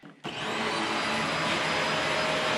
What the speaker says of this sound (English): we've had our Shark Navigator vacuum for a little over a year, and the brush stopped working when it's going over carpet